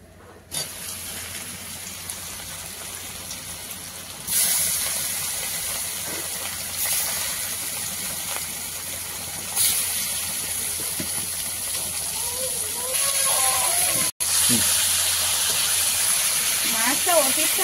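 Koi fish going into hot oil in a kadai wok sets off a bright, steady frying hiss that swells in stages as pieces are added. Voices talk quietly underneath at times.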